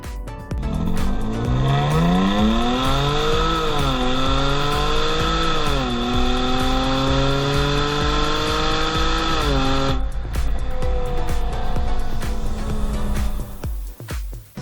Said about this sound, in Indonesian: suara knalpot tidak terganggu dan suara dari mobil ini seperti mobil sport